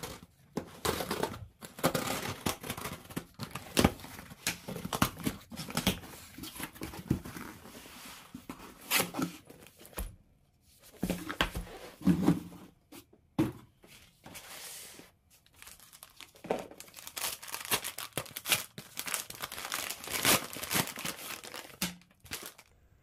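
New camera equipment, including a tripod, is unboxed with loud crinkling plastic and paper packaging, irregular bursts of rustling and tearing close by, separated by brief quiet gaps.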